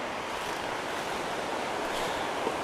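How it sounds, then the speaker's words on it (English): A river in Olympic National Forest flows steadily in a broad, constant rush of water, heard nearby without any voices. "Gonna come down here and check out the river."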